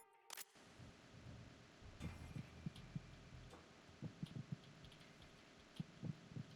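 Heartbeats from the Metal Gear Solid 2 video game: soft, low thumping pulses in irregular pairs over a steady hum, with one sharp burst near the start.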